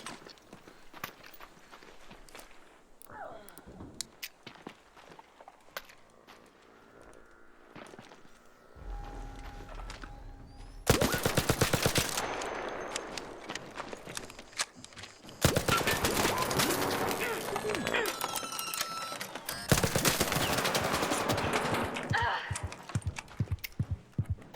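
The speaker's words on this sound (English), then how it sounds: "I'm pretty sure I shot that guy at least 9 times and he didn't die." Gunfire in the video game Arc Raiders, starting with quiet footsteps and movement and then breaking into several loud, dense bursts of rapid shots.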